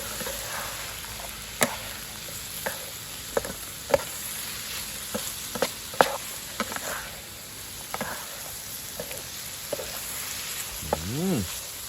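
Shrimp stir-fried in a pan before being baked with butter and cheese: a steady low sizzle with scattered sharp scrapes and clicks of a utensil against the pan, fairly close.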